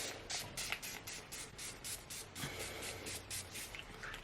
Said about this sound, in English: I'm going to go ahead and set my face with this Power Up Dual Phase Setting Spray.